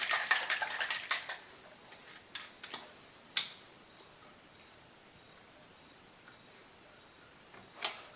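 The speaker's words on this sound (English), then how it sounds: "I'm going to put 1 teaspoon of the root beer in there, 1 teaspoon of the orange in there." A metal teaspoon clinks against glass bottles while root beer extract is measured in for homemade soda. The sharp ticks come in quick clusters at the start, then fall into sparse, faint taps over a quiet background.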